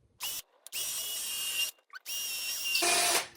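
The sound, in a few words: power drill making pilot holes for screws in guitar mould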